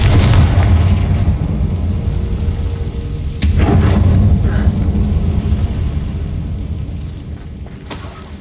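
A Confringo fire spell blasts in a mine in Hogwarts Legacy, a loud, close booming impact that swells mid-clip and then rumbles on before fading, with no talk.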